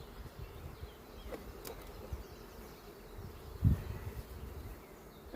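Honeybees hum softly around an open hive during small-scale queen rearing, a faint continuous buzz with a brief louder bump partway through.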